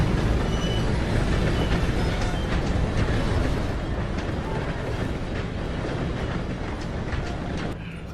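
A train in Red Dead Redemption II rumbles loud and close, a heavy continuous roar with rhythmic clatter that eases slightly near the end, voices faintly beneath.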